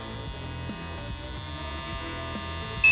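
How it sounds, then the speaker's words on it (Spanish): An electric shaver from a VGR 3-in-1 grooming kit buzzes steadily with a low, pulsing motor drone and mains-like hum, close and continuous, with a brief louder bump near the end. "De las tres cosas, algo que no es tan silencioso es la afeitadora."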